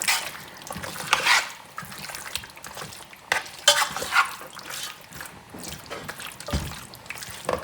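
Yogurt is stirred into a chicken biryani marinade, giving soft, wet squelching and sloshing strokes at an irregular pace, close and fairly quiet, with no talking.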